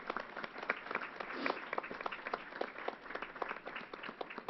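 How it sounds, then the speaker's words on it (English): Applause at a news conference held at a baseball stadium vaccination site, a crowd clapping in a steady, moderately loud patter with individual claps clearly distinguishable throughout. "Let's give them a big round of applause."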